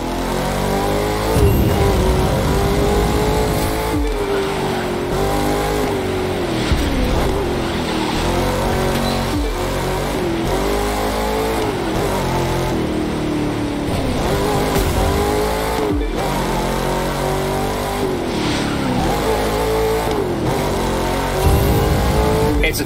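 Race cars in The Crew 2 video game roar continuously through a Grand Canyon race, engines revving up and down through gear changes with occasional tire squeal, loud and constant throughout.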